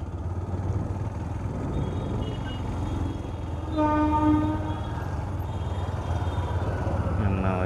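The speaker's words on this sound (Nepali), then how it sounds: "ऊ बोकेको ट्रेन आइरहेछ," An Indian freight train hauling tanker wagons rumbles steadily past close by, and a loud sustained horn blast sounds over the rolling noise partway through. No one speaks over it.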